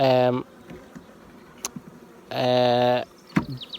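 Honey bees buzz in two loud sustained bursts around a hive box, separated by quieter intervals with scattered faint sounds.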